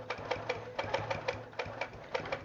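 A sewing machine with a hopping foot runs at a moderate pace while free-motion quilting small pebble shapes. A steady train of close, evenly spaced stitch clatters carries a low motor hum underneath.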